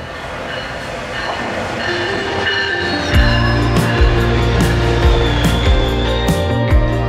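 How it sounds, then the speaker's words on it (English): Morning commuter train heading to downtown Toronto, heard from inside as a loud, steady rumble with low droning tones and rhythmic clacks of wheels over rail joints. "We caught the morning train."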